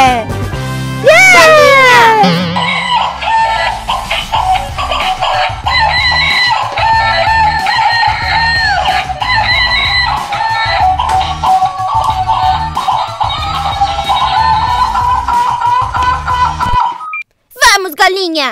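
A children's toy chicken crows and clucks loudly over a bouncy electronic tune that plays steadily, opening with rising cartoonish whoops and ending with a brief break and a burst of noise.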